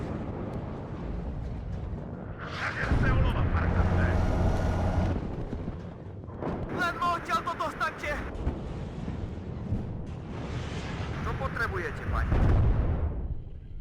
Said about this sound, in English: Oh, now these are being artied. Oh man, that artillery is really,